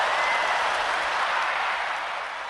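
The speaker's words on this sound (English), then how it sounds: "Round of applause for my boy getting the fuck out the pen" Round of applause on a podcast, a wash of dense clapping at moderate level that slowly fades out, with no voices over it.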